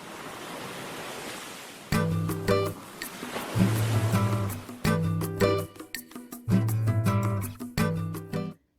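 Surf washes steadily onto Ipanema beach in Rio de Janeiro, a broad continuous roar at first, then continuing beneath louder rhythmic music for the rest of the scene.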